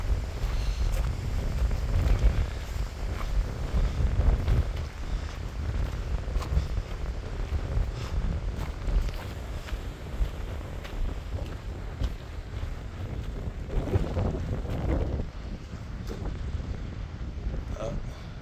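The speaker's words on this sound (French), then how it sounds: "Évidemment, il y a du vent." Strong mountain wind at the Devil's Bridge in the Swiss Alps, a continuous, heavy rumbling gust that buffets the microphone throughout, with faint indistinct voices underneath.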